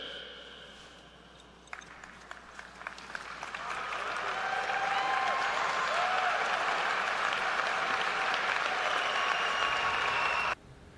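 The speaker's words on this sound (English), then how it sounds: "they gave him a sustained applause" A large audience breaks into sustained applause honoring a speaker at a Yeshiva event, the clapping swelling after a quiet start and holding steady at full strength for several seconds before cutting off abruptly.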